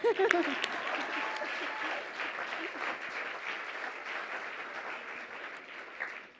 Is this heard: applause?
yes